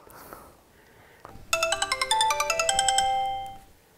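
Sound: telephone ringtone, incoming call

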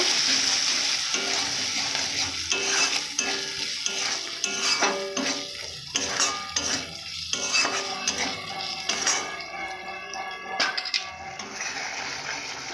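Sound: stirring spice masala with chili powder in a pan

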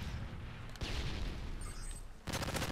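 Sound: sentry gun firing in Modern Warfare 3 video game

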